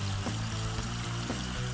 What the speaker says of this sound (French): On doit verser toute la poudre dans les toilettes pour être sûr qu'il n'y ait plus d'éclaboussure